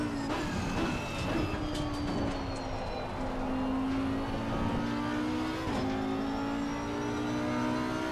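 A race car engine in Assetto Competizione at Watkins Glen drones loud and steady, its pitch sliding gently down and up as the car lifts off and reapplies throttle, with no talking.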